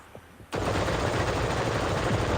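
Rapid automatic gunfire blasts at a turret in the VR shooter Sweet Surrender, a dense, loud, continuous burst that starts abruptly and holds steady.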